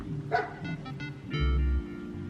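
A puppy barks and yips in short, close bursts, one longer yelp near the end, over a faint steady background hum.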